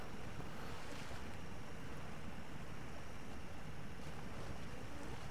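A Ford F350 truck in the SnowRunner video game drives through water, a steady broadband wash of splashing and sloshing with an engine rumble beneath, continuous and loud throughout.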